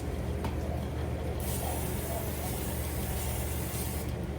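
A hissing spray from an aerosol can, a steady burst of several seconds standing out over a low background rumble.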